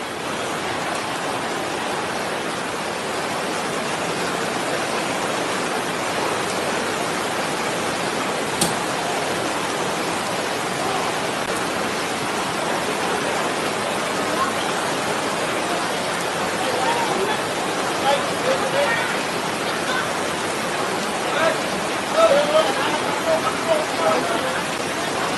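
Heavy rain drumming steadily on a tarp at a house, a continuous loud hiss of dense droplets with a few sharper drip ticks toward the end and a faint murmur of voices underneath.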